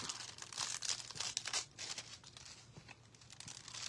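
Crinkling craft foil sheets handled up close, bursts of bright rustling and crumpling that come and go, fairly loud and alone.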